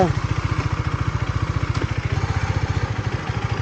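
A motorcycle engine idles close by, its rapid, even putter pulsing steadily and loudly without a break.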